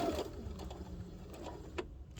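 A sewing machine stitches a half-inch seam in fabric for a child's wallet, a quiet low mechanical whir running steadily through the brief moment.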